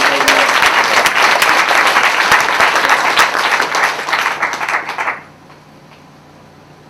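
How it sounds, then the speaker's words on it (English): A crowd applauds loudly for the Penn Prison Program, dense clapping with a few sharp individual claps, thinning over the last seconds before cutting off abruptly to near silence. "Can we give one more big round of applause for the Penn Prison Program?"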